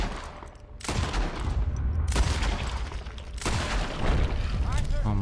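Gunshots in Red Dead Redemption 2 ring out as three sharp, loud blasts spaced about a second apart, each leaving a rolling echo, with a brief fluttering sound at the very end.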